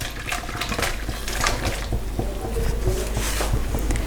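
Cooked onion and tomato that have released their water are moved into a large karahi, giving wet squelching, sloshing and scraping sounds at a fairly loud, close level.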